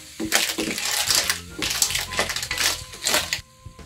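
Scraping and clinking of a utensil stirring clam and shrimp tinola in a pot, continuous and close, with a voice speaking faintly at moments.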